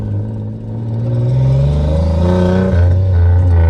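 A turbocharged Nissan VQ35 engine with a new throttle body revs on a dyno at partial throttle, a loud close rising engine drone that climbs in pitch, briefly dips and holds high.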